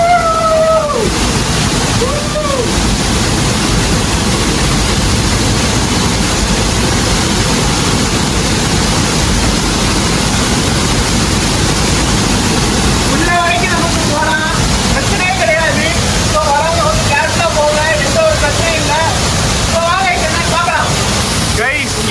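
Mountain water from the Valli Chunai falls, fed by rain, pours between rocks in a steady, loud, broadband rush that fills the whole clip, with people talking over it toward the end.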